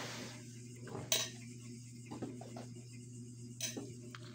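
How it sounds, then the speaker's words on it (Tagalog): Plates and cutlery are cleared after a meal of fried and stewed tuna, with a few sharp clinks and clatters of dishware over a low steady background hum. "Anuin mo yung pinggan,"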